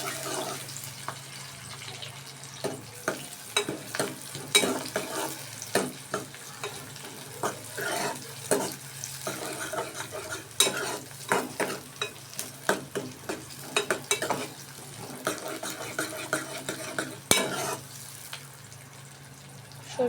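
Mustard oil sizzles and bubbles steadily in a pan for a pigeon meat curry, with frequent clinks and scrapes of a stirring utensil over a continuous frying hiss, no voices.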